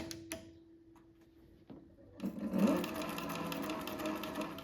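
A Cobra 26 leather sewing machine sits quiet with a few clicks and taps, then starts up and stitches through leather with a steady rapid mechanical thumping, close and fairly loud.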